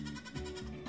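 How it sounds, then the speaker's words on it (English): Baby goats bleat in a short burst at an outdoor goat yoga class in an empty paddock, a couple of close, wavering calls over steady background noise. "This is what happens when 10 baby goats are released upon them."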